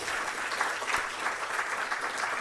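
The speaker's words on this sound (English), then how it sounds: "Shall we give Noguchi a clap?" An audience applauds Noguchi at a global health research anniversary gathering: a short, even burst of clapping, moderately loud and unbroken, with no speech over it.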